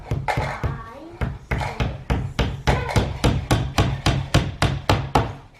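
Steady hammer blows drive nails into a grey oak two-shelf bookcase during assembly, about fifteen sharp wooden knocks in an even rhythm, close and loud, with someone speaking faintly between strikes.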